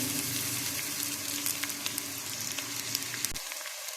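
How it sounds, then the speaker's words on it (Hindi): Chopped onions hit hot oil in a pan for a pea curry, setting off a loud, steady, close sizzle that runs evenly and then cuts off abruptly near the end. "ऑयल यहाँ गर्म हो गया है, अब प्याज ऐड कर देंगे।"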